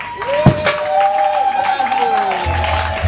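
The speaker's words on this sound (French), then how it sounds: "elle mérite plus d'applaudissements" Audience applauding a student reciter at a school event marking a day for people with disabilities, steady clapping filling the room throughout, with voices calling out over it.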